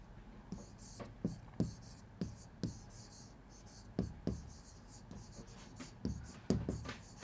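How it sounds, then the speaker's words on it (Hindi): Notes are written by hand during a NEET biology lesson on biomolecules, producing a series of quiet, close pen or marker scratches in short irregular strokes, with faint low voices in the background. "ठीक है, साफ से लिखते हैं।"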